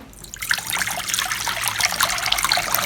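Water pours steadily into a bowl, a loud, close, continuous splashing trickle that runs unbroken from start to finish.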